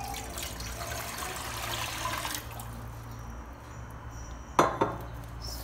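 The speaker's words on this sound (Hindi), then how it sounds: "इसमें हम पानी डालेंगे।" Water pours into a saucepan with a hissing splash for a couple of seconds, fades to quiet, then a sharp metallic clank of the pan follows.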